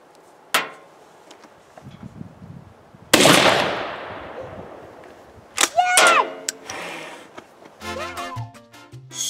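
Shotgun blasts firing improvised VHS tape rounds at a target, a sharp bang followed later by a louder roaring burst and clattering impacts, with a voice briefly audible near the end.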